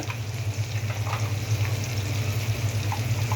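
Ground spices (turmeric, chili, cumin, coriander) with salt frying in oil in a pan for a taro curry, a steady close sizzle with light crackles and faint stirring throughout.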